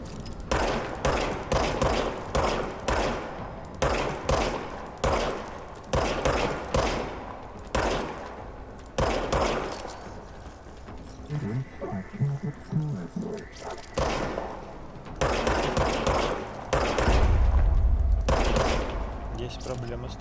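Repeated gunfire from a player's gun in the video game Control, sharp shots in irregular bursts across the whole stretch with brief pauses and a heavier rumble near the end.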